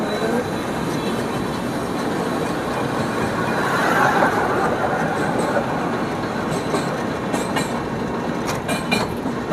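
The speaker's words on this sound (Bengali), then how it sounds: "ট্রেন যাচ্ছে দেখুন" The Radhikapur Express rolls past near the Farakka Barrage with a loud, continuous rumble and rhythmic clickety-clack of wheels over rail joints, swelling midway and ending with brief metallic squeals.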